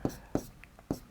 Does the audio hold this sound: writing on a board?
yes